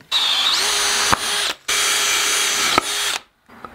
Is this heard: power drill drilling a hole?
yes